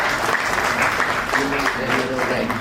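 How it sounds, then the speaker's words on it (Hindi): An audience at a national ideal teachers' award ceremony claps steadily for an award recipient, a dense, even wash of applause with a voice sounding over it. "जोरदार तालियां धनंजय कुशवाहा जी के लिए"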